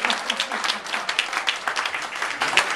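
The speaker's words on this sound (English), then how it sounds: "Go ahead, applaud." A small crowd claps steadily, a dense patter of hands applauding with no talking over it.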